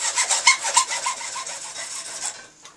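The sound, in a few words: hand saw cutting PVC plastic pipe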